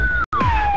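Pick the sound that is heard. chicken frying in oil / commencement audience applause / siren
siren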